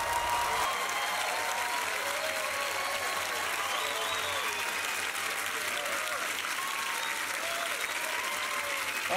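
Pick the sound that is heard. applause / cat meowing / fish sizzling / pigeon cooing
applause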